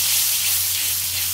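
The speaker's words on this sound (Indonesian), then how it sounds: "Terus tumis yang bumbu yang tadi dihaluskan." Ground spice paste sautéing in hot oil in a pan, a loud continuous close sizzle and hiss with a faint low hum beneath, steady and without talk.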